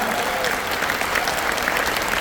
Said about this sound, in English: I need a round of applause for John Hamla.